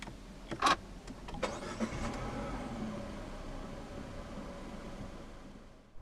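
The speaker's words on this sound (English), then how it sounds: "put your foot on the brake and press the start button straight away" A 2017 Citroën C4 Picasso with a THP petrol engine starting by push button, a sharp cranking burst followed by the engine catching and settling into a steady, quiet idle close by.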